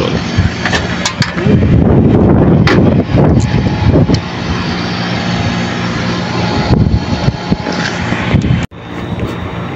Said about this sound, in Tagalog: Biglang lumakas ang hangin, eh.